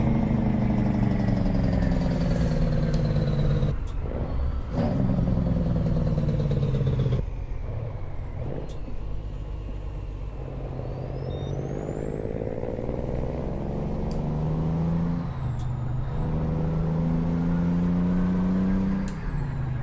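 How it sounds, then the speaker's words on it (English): A rock truck in American Truck Simulator, driving through a new security checkpoint area in Mexico, passes with a steady loud engine drone and rising whine, hissing air-brake bursts, and music-like tones layered over it. "Just a rock truck, guys. Don't worry. It's just a rock truck."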